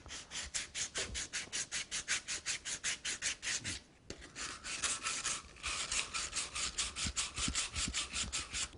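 Steady rhythmic strokes of fine sandpaper rubbing across a hand-carved wooden piece, a soft raspy back-and-forth repeated many times, close up, with one brief pause midway.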